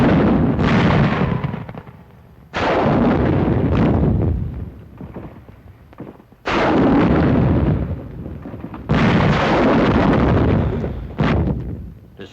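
Bazooka fire and explosions in World War II combat on Cebu hill country, aimed at Japanese tunnel positions: loud, heavy blasts and booming bursts in four big surges with rumbling decay between them, no talk.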